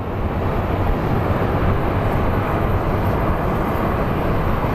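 An airplane landing at Phoenix Sky Harbor airport produces a continuous broad roar of jet engine noise, steady and loud throughout with no talk.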